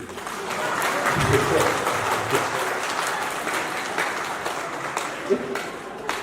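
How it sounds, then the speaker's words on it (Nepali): An audience at a political rally claps, a dense, sustained wash of applause filling the whole stretch at fairly close range, swelling early and then easing slightly, with no speech over it. "किन फेरि नबजाएको ताली?"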